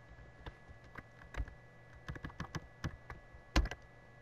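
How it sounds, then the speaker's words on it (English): Typing on a computer keyboard while entering a spreadsheet formula, a dozen or so close, crisp key taps in irregular bursts with brief pauses and one sharper strike near the end, against a quiet background. "I'll type equals max of this column."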